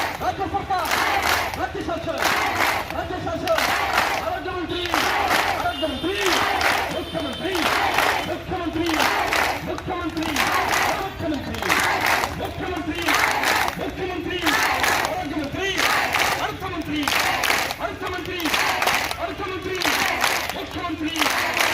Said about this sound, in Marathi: जिल्हा परिषद या ठिकाणी आशा सेविका व गटप्रवर्तक यांची प्रचंड गर्दी या ठिकाणी दिसून येत आहे